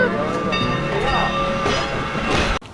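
The Railtown 1897 heritage train in Jamestown, California rolls along steadily, a continuous rumbling clatter with bright ringing tones from the cars, ending in an abrupt cutoff; people may be talking faintly underneath.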